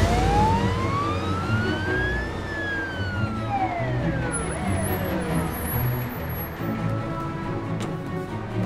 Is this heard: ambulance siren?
yes